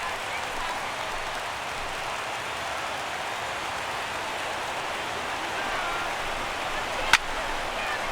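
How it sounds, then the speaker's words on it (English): A steady, dense roar of a large baseball stadium crowd cheering and applauding in the MLB 16: The Show video game, holding constant throughout with a brief sharp click near the end. "And listen to this crowd now. They are into it."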